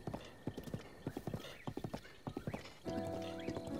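Rhythmic clip-clop of hooves on hard ground in the video game The Legend of Zelda: Breath of the Wild, steady and fairly close, followed by a horse's whinny at the end.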